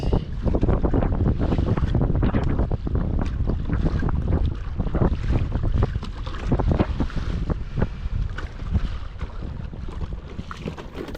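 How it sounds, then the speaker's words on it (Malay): Strong wind roars steadily across the microphone while kayak fishing on open water off Melaka, with water and boat noise beneath, loud and continuous with no talking. "Dengan angin kuat"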